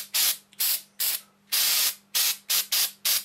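Spray paint hisses out in eight short, sharp bursts with brief pauses between them, close up and fairly loud, painting a Dukes of Hazzard police car build partly shielded by a towel.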